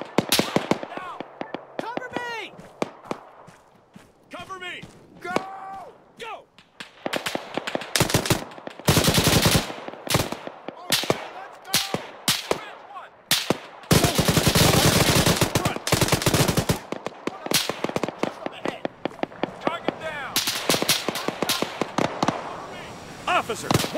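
An infantry assault brings bursts of machine gun fire and rifle shots, loud and close, with rapid rattling strings and single cracks. Shouted voices come in between and under the gunfire.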